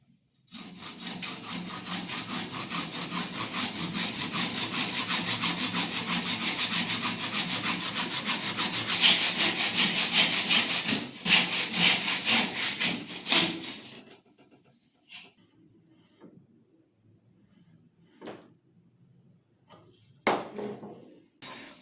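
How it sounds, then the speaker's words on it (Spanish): A hand saw cuts straight and square through wood, giving a continuous rhythmic rasping of back-and-forth strokes up close for about fourteen seconds, then stopping, followed by a few faint knocks and taps. "prensan y empiezan a cortar tomando siempre como referencia esta cara e ir derechito sobre la cara recta"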